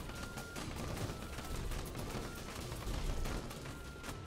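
Cannons firing in the pirate bullet-heaven horde survival game Sea of Survivors, a dense, continuous barrage of rapid overlapping blasts and booms at steady loudness, with no talking.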